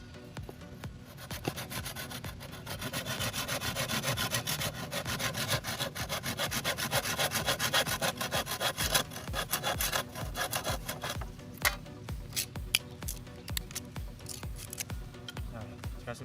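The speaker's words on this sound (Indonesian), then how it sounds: "lalu kita potong menggunakan gergaji" A hand saw cuts through bamboo being shaped for traditional stilts, fast rhythmic rasping strokes close up that run steadily, then slow and thin out into sparse scrapes toward the end.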